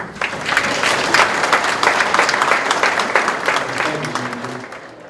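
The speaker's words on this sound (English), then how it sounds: "give yourself a round of applause for telling your kids and your kids, grandkids" An audience claps steadily throughout a short community gathering, a sustained mid-level wash of hands with no speech.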